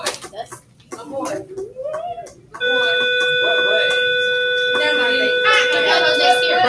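A bell rings with a steady, sustained electronic tone that starts partway through and holds to the end, following a stretch of people talking.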